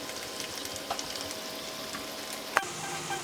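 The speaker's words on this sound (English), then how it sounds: "I just put in those green beans right in there." Green beans fry in a pan with a little grease and water, a soft steady sizzle close by with faint stirring taps and one sharp clink, no talk.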